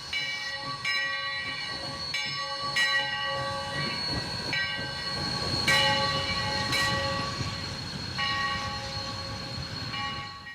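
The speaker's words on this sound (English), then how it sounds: "So this is Sierra Railway locomotive number 28." Sierra Railway locomotive number 28 rumbles nearby with a steady mechanical churn, while a bright ringing bell sounds repeatedly over it.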